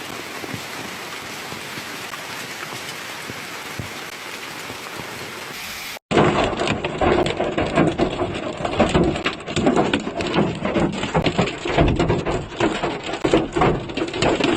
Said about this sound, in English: Cars left in the open lots were dented by the hail.